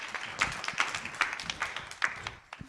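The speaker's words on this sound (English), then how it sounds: "give this fine gentleman a round of applause" Scattered clapping from a small audience at a lightning talk on Ansible automation, a thin run of separate hand claps in an uneven rhythm that tapers off after a couple of seconds.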